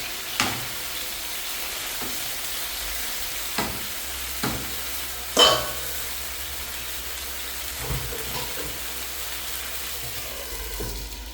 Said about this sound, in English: That fire, is that oil popping too much?